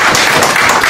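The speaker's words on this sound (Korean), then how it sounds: "큰 박수로 환영해 주시기 바랍니다" Audience applause welcoming a guest at a citizens' movement founding event, a dense steady wash of clapping, loud and close, continuing throughout without pause.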